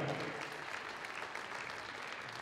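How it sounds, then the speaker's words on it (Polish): Dense, continuous applause fills a sports arena at the final of a European championship in Lubin, Poland, a broad wash of many hands clapping at steady, fairly distant volume. "wielki brawa Anders Santos Dania"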